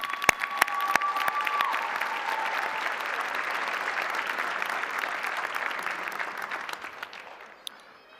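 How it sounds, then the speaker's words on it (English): Commencement audience applause for faculty and staff, a broad steady wash of clapping in a large hall that holds evenly for several seconds, then thins and fades out. "Please join me in giving them a welcome round of applause"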